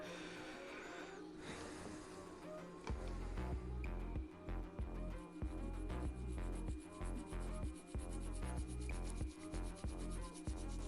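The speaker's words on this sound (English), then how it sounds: "Just gonna scrub that. Get any flux away from it." A brush scrubs flux off a Sega Saturn console circuit board after soldering in a BIOS chip, with quick rhythmic rubbing strokes that start after a quiet moment and continue close and steady.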